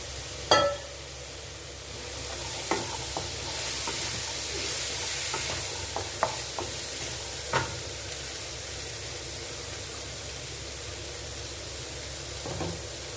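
Black chickpeas go into a hot pan with a thud and are stirred and fried, giving a constant hissing sizzle broken by scattered scrapes and knocks of the spoon against the pan.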